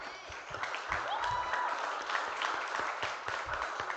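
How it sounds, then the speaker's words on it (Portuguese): Audience applause at a church gathering, moderately loud and steady for a few seconds, with a few low thumps and faint voices mixed in. "Vamos dar um aplauso a Jesus."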